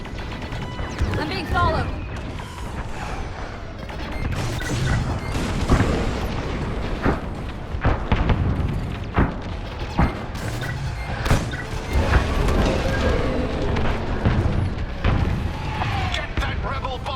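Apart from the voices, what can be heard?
enemy fire hitting starfighter, video game Star Wars: Squadrons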